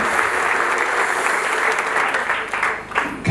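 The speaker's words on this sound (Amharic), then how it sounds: "በደንብ አጨብጭቡ።" A church congregation claps together in a sustained burst of dense, loud applause that carries through the whole stretch before a few final claps.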